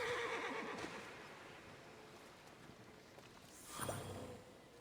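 A horse in the video game Immortals Fenyx Rising, heard as a quiet, breathy snort and whinny with soft hoof movement, under faint ambient game background.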